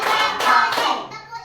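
Children in a classroom clap their hands in a quick counted rhythm during a teaching session, the claps fairly close and loud with faint young voices chanting along.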